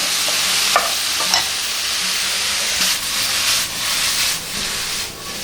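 Sliced leeks tipped into a pan of frying chicken, giving a loud, continuous sizzling hiss close by, with a few light scraping and stirring knocks.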